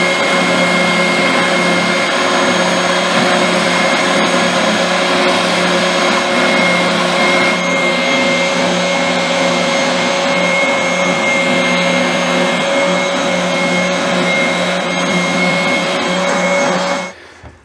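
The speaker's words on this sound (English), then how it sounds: "what I'm going to do now is run it around my sander here" Electric sander running continuously to clean the edges of laminated wooden pieces, a loud steady motor whine with a strong hum that holds for the whole stretch and cuts off at the end.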